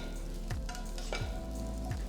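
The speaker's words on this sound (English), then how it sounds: "First I'm going to stir fry the onion wedges." Onion wedges from one large onion stir-fried in oil over a high flame: a close, steady sizzle broken by three evenly spaced scrapes of the spatula against the pan.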